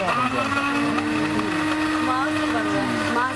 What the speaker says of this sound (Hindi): ब्लेंडर में डाल के इसको हम ब्लेंड कर देते हैं।